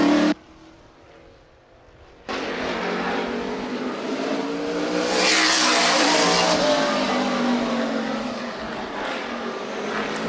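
Outlaw late model race cars roar around a dirt oval track at night, engines loud and sustained, with a passing car swelling nearer and fading, after a brief quieter dip.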